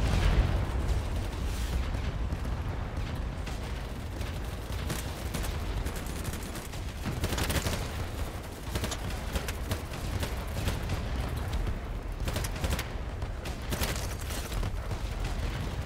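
In the video game BattleBit Remastered, explosions and gunfire roll on without a break for about sixteen seconds, a loud, dense barrage of booms and rapid shots that sounds like a heavy firefight.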